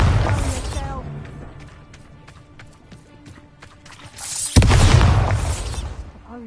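A Bombarda blast spell cast in Hogwarts Legacy, heard as a loud burst at the start and another heavy boom near the end, with rhythmic clip-clop steps and game effects in between.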